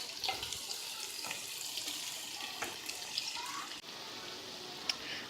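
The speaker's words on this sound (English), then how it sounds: "I just drained the pasta" Pasta water pours out into a kitchen sink, a steady, fairly faint rushing flow with a few clinks and knocks and no speech.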